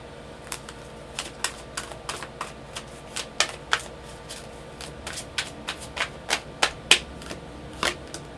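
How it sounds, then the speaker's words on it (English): A deck of love oracle cards being shuffled by hand: a steady run of crisp, close riffling snaps and taps at an even rhythm over a low background hiss, with no talking. "Let's pull some love cards for you."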